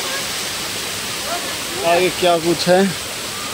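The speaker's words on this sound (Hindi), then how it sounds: "नीचे महादेव बैठे हुए हैं ऊपर से झरना गिर रहा है" A small display waterfall with a Mahadev figure at the Chandigarh doll museum gives a steady, close rush of falling water. Someone talks briefly over it midway.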